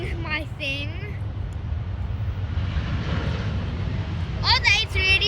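An Airbus A380 airliner passes overhead, a broad sustained roar that swells gently and stays steady throughout. People talk over it at the start and again near the end.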